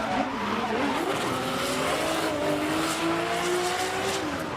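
A drift car at full throttle in FDJ2 qualifying at Okuibuki Motorpark, Shiga, screams through a sustained engine wail with tires skidding and squealing continuously, loud and steady, pitch wavering as the revs shift.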